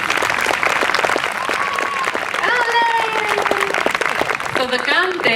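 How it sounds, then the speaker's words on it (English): Audience applause fills a library summer concert after a flamenco singer's song, steady clapping throughout with faint melodic notes and voices rising over it near the end. "Another round of applause."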